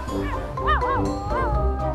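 A cartoon dog yips and whimpers in trouble at sea, a few short high rising and falling cries over a busy animated soundtrack.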